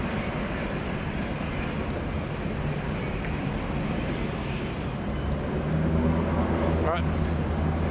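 A Dash 8 Q200 turboprop takes off from Sydney Airport, a steady broadband engine roar that swells louder partway through, with a person talking over it.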